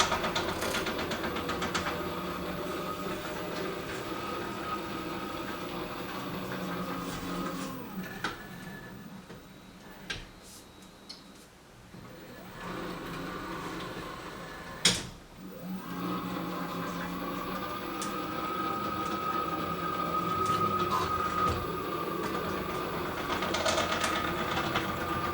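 A digital quilting machine's motor hums and whirs steadily as its carriage travels to set the safe sewing area, with a brief lull midway and a sharp clunk before the drive resumes.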